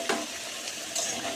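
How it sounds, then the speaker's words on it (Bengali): Potatoes for a meat curry fry in a pan, giving a steady close sizzle with a few brief scrapes and stirs and no talking. "এখানে মাংসর আলু ভাজা হচ্ছে,"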